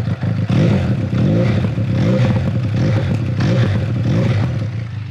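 Benelli Leoncino 500 inline-twin motorcycle engine runs close and loud, revving up and easing off in rising and falling swells with some mechanical clatter, no talk over it.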